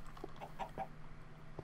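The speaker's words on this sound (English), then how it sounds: "Got some noisy chickens in here." Chickens clucking in the Minecraft video game, a few short soft clucks spaced irregularly over a faint steady hum, quiet and brief with no talk.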